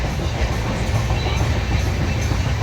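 An express passenger train, a Duronto Express in India, rumbles and rattles along the rails in a steady, loud roar of wheels and carriage noise, with no voices.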